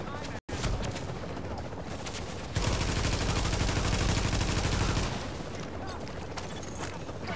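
Gunfire in the video game The Division: dense rapid bursts of automatic fire, a brief dropout near the start, then a louder stretch of continuous shooting that eases off toward the end.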